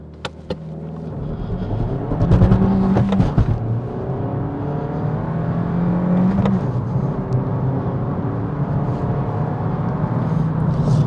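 A Suzuki Swift Sport Hybrid pulls hard in a 0 to 60 run heard from inside, its engine droning and climbing through the revs with a brief gear change, steady and loud with no speech.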